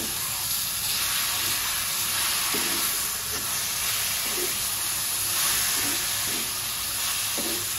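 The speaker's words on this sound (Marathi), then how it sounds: "छान परतून घेऊया." Brinjal sautés in green chili thecha in a pan, giving an even, steady hiss of frying. Soft, regular stirring thuds recur every second or so, with no voices.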